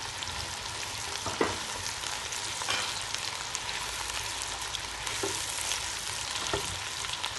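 Ginger and garlic with onions frying in hot oil in a pan for chicken palak, a steady close sizzle with occasional stirring clinks and no talk.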